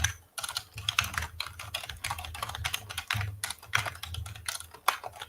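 A computer keyboard is typed on steadily as a question is entered into ChatGPT, giving a dense, continuous run of close, fast key clicks with no pauses.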